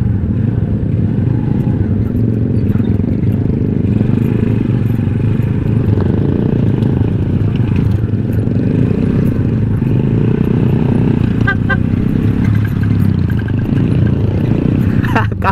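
Classic cafe racer motorcycles ride off-road near Infanta, Quezon, their engines droning loudly and steadily throughout, with rattling and scraping over rough ground.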